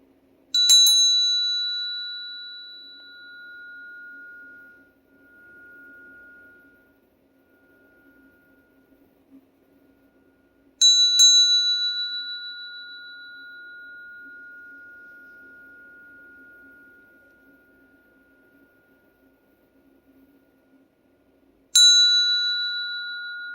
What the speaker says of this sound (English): I'm going to do a little sound bell to get us started